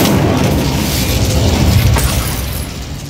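An Incendio spell erupts in Hogwarts Legacy with a loud, sustained low roar and rumble, a faint crackling burst midway, slowly easing off at the end, with no talk.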